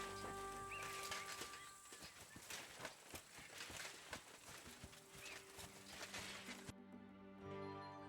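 A grey horse in the medieval game Kingdom Come: Deliverance 2 whinnies and clops its hooves at moderate distance, with birdsong in the background; the ambience cuts off sharply near the end.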